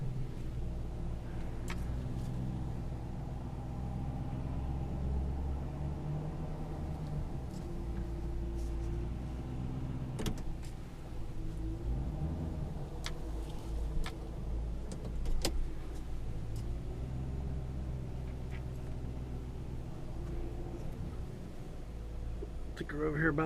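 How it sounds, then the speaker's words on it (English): A running 2009 Volvo S40 T5 AWD R-Design engine with a noisy alternator hums steadily at idle, low and constant with faint intermittent clicks, heard close with no talking. "Hear that alternator?"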